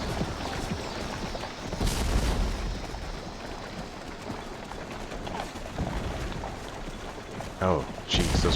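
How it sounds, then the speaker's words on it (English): Cannon fire rumbles in the Civil War strategy game Take Command: 2nd Manassas, a few dull booms and bursts over dense battle noise, with someone talking throughout. "those are just cannons"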